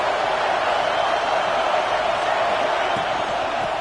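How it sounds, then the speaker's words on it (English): A football stadium crowd roars in a steady, loud, broad wash of noise that holds at the same level throughout, with no clear individual voices standing out. "This crowd ready to make its presence known."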